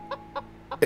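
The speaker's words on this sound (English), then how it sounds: "It makes chicken sounds." A chicken-themed axe in Roblox Lumber Tycoon 2 gives off a quick series of four short clucks, the last one louder and sharper, close and clear.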